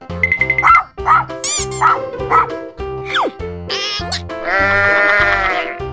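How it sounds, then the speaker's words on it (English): Sheep bleating from a toy or cartoon animal sound sequence, with a series of short wavering calls interleaved with a dog's yips and other effects, loud and close throughout. "Sheep."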